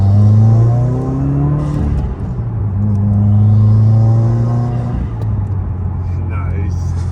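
Car engine revving after a GrimmSpeed intake install, a loud close throaty rev rising and falling in several sweeps over a steady idle rumble, with people talking over it.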